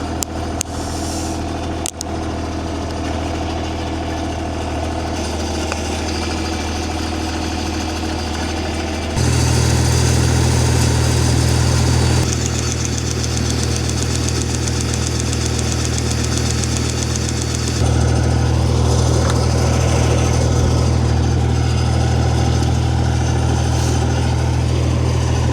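Isuzu generator set engine idling on a Valley irrigation pivot, a steady close diesel drone with knocking character that shifts in load and loudness a few times across the span, with no talk.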